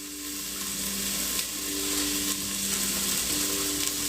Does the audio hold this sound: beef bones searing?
yes